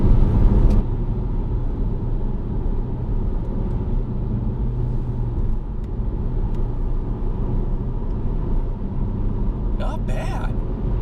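Nissan Juke NISMO driving in front-wheel drive only, a steady low engine and road rumble held at constant level throughout, with a brief faint bright rattle near the end.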